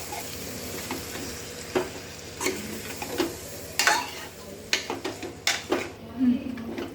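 Chicken curry with puréed tomato is stirred in a hot pan, and a spoon scrapes and clinks in irregular sharp knocks over a steady low sizzle. A voice talks through parts of it.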